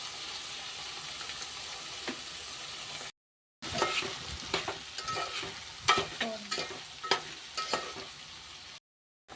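Salted brinjal pieces fry in a pan with a continuous crackling sizzle, then spoon stirring and scraping clatters in brisk bursts. Two short silent gaps break the sound, and no one speaks.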